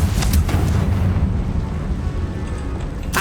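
A loud, roaring fire-spell blast from Confringo in Hogwarts Legacy, a dense rumbling burst that fills the whole moment with no voices over it.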